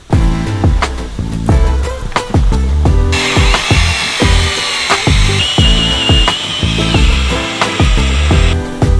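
A power drill whirs in repeated short bursts while drilling into a metal chassis, with a higher-pitched grinding whine running steadily through the middle stretch, loud and close.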